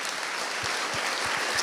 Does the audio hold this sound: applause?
yes